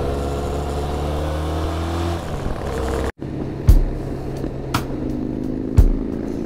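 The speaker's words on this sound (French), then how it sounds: "Les pots d'échappement, les gars, ça va pas. C'est vraiment trop bruyant." Motorcycles on a group Harley ride with a TRK 502, loud exhausts droning and revving steadily, then a few sharp thumps and bumps after a brief cut.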